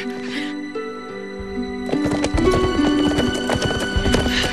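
A horse neighs loudly at the start, then its hooves clip-clop in a quick, close, uneven clatter that grows louder and busier, with a brief voice mixed in.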